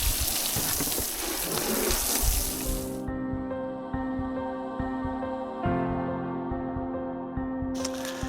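Water gushes steadily from a hose, rinsing off lawnmowers and a UTV outdoors. The spray is loud and continuous at first, then thins into a softer, tonal trickle.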